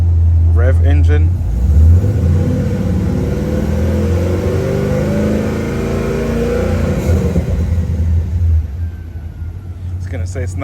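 A Pontiac GTO engine revs up and then settles into a low, steady idle rumble nearby, with people talking over it.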